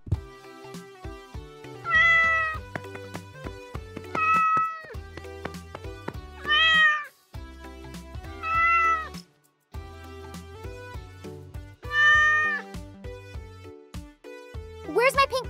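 A cat meows repeatedly in drawn-out, wavering calls at intervals, loud and close, between stretches of playful toy music and clatter.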